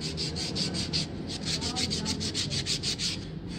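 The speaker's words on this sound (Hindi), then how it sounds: "और ऊपर रेगमाल लगा लेना है।" Sandpaper rubbing the leather plate of a motorbike drum brake during a brake rubber replacement, giving a fast, steady series of close, rhythmic scratchy strokes with no talking.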